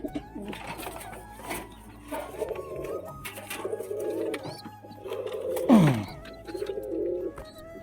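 Pigeons cooing inside a coop, repeated low throaty coos close by, with light rustling and a brief sharper sound partway through.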